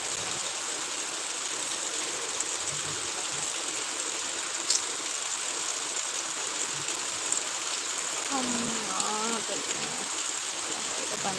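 Steady, heavy rushing of rain and flowing water fills the scene, with a brief voice surfacing near the end.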